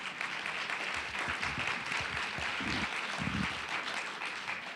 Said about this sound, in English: One more round of applause as they exit.